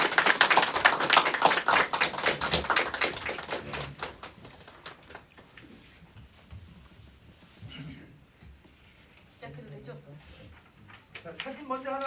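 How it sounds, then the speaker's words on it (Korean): Applause from an audience at a press event announcing a candidacy for Jeju provincial education superintendent, loud and dense at first, then fading into scattered claps and murmured voices with a few taps. "격려의 큰 박수 부탁드리겠습니다."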